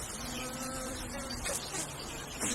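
Bees and other insects buzz across a summer hay meadow, a steady soft drone with a few closer passes swelling briefly louder, no voices.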